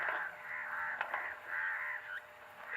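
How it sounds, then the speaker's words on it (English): Crows caw repeatedly from a moderate distance, a series of harsh drawn-out calls in irregular bursts with short pauses, heard alone over a quiet background. "that sounds like a bird."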